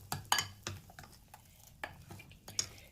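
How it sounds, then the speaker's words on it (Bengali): A spoon stirring Eno into dosa batter in a bowl, producing soft scraping and intermittent sharp clinks of utensil against the bowl in an irregular rhythm, fairly quiet and close. "ইনোটা ভালো করে মিশিয়ে নিলাম"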